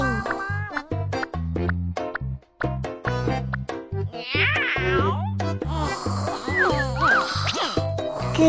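Game cat from a Baby Bus animal care video game meows several times over bright, bouncy background music with chiming effects, the calls clear and close.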